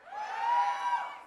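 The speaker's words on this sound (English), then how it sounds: "It's post-lunch, so we need a bit more of a cheer." Brief audience cheer at a literature festival panel, a single swelling burst of voices and whoops that builds and fades within about a second, fairly faint.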